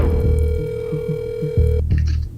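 A telephone line tone holds steady and then cuts off into a short burst of electronic beeps, close and clear, with no voices.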